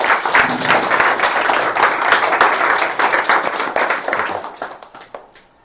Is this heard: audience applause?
yes